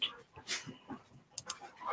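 A few short, high-pitched dog whimpers and whines, fairly faint, in bursts over a quiet room.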